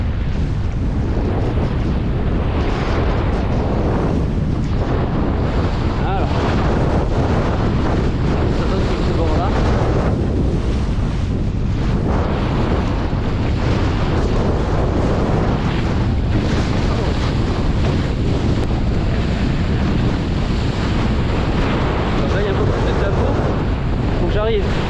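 Strong wind gusts batter the microphone while waves wash around during an overpowered kitesurfing session, a constant loud roar with surging bursts throughout.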